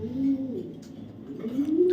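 Racer pigeons cooing, a few low rolling coos rising and falling, close and moderately loud over faint background noise.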